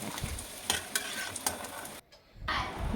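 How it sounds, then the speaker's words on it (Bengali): Papad frying in hot oil, a bright, dense close sizzle with spoon clinks and stirring scrapes, briefly dropping out before the hiss returns. "এসেছি পাপড় ভাজা করতে"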